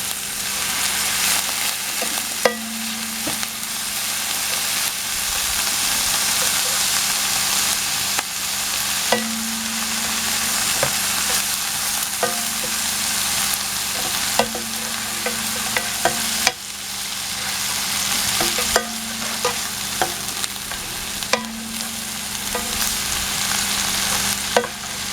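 Onions fry and caramelize in a pan with a steady, close sizzle, broken by occasional stirring scrapes and soft clicks throughout.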